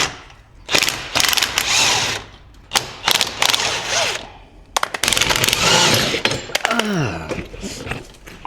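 A ratchet clicks in repeated bursts while tightening the track bolts on a snowmobile, loud and close, with pauses between bursts and some clanking of tools.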